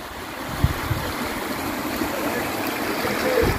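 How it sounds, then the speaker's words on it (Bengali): Rainwater current flowing steadily at Bakkhali after a downpour, a continuous close wash and trickle with a couple of soft splashes near the start, carrying on alone without pause. "জলের স্রোত বয়ে যাচ্ছে দেখো"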